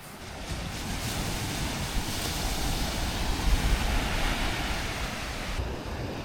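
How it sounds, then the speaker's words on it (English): Steady roar of ocean surf washing onto a beach, with broad rushing noise and some wind buffeting the microphone. "Waves."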